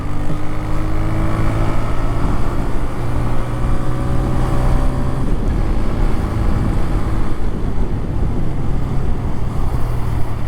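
A 2025 TVS Raider 125cc motorcycle being ridden, its engine droning steadily and close with wind rush, no talk over it.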